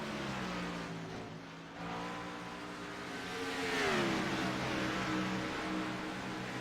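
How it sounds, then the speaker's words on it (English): Race cars circling the oval at Dover International Speedway in a simulated league race, a continuous engine drone with several cars overlapping, pitch rising as a car passes close, steady and loud with no talk. "we still also have Evan Rice on the track in the 6 car, 5 laps down"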